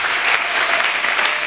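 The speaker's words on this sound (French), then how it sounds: "Est-ce que tu peux acclamer pour le Seigneur?" A church congregation claps and cheers for the Lord, dense and loud, a steady wall of applause filling the whole moment without pause.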